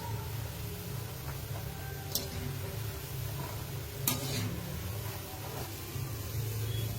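Kathiyawadi gathiya fry in oil that is hot but not fully heated, giving a steady, soft sizzle close by, with a couple of brief clicks from stirring.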